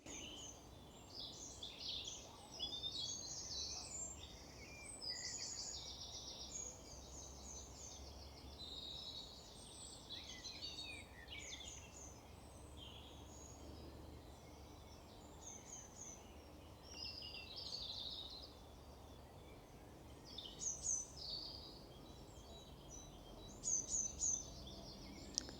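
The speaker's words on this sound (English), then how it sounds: "Hopefully you can hear the beautiful bird song in the background." Birdsong in a bluebell woodland in the UK, several birds chirping and warbling steadily throughout, light and somewhat distant over a quiet outdoor background, with a few sharper calls near the end.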